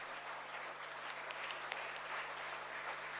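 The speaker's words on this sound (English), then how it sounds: "the round of applause to our colleagues" Audience at a mental health forum applauding colleagues: faint, distant, steady clapping with a few sharper claps, over a low constant hum.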